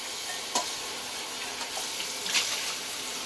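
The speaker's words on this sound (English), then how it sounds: "So all you have to do is rinse it real quick." A pot is rinsed under a running tap, with a steady close hiss of splashing water and a few brief clinks, and no talking.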